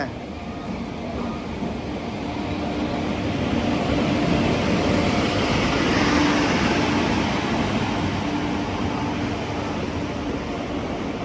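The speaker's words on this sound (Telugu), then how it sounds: "ఇప్పుడే ప్లాట్ఫామ్ నెంబర్ 1కి ఒక ట్రైన్ వస్తుంది." An express train running from Kirandul to Visakhapatnam pulls in to platform 1 at night, its broad steady rumble and rolling rail noise swelling through the middle and easing slightly, with station ambience throughout.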